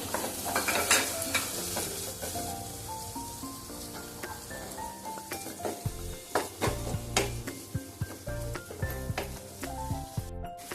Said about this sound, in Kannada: ಇವಾಗ ಇದಕ್ಕೆ ಕ್ಯಾರೆಟ್, ಬೀನ್ಸ್ ಚೆನ್ನಾಗಿ ಫ್ರೈ ಮಾಡ್ಕೋಬೇಕು.